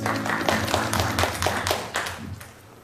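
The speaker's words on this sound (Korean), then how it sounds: "우리의 기도를 들으신 주님께 감사의 박수 올리겠습니다" A church congregation at a Saturday intercessory prayer meeting claps their hands in thanks after prayer, a fairly regular, rhythmic pattern of many claps at moderate loudness, fading toward the end.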